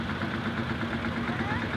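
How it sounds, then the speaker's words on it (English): A Massey Harris 20KS kerosene special tractor, built in the United States with a Continental engine made to run on petrol paraffin, chugs steadily at a steam rally. The engine note is continuous and moderately loud. "the Massey Harris 20KS kerosene special, built in the United States with a Continental engine in it"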